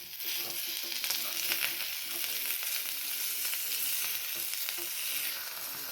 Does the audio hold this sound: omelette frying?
yes